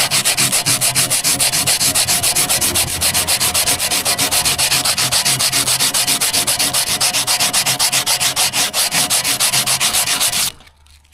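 Aluminium foil rubbed hard against rusty chrome in a steady, fast back-and-forth scrubbing, loud and close with no talk, stopping abruptly near the end.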